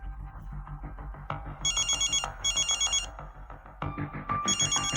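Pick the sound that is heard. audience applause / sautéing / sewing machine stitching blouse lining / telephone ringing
telephone ringing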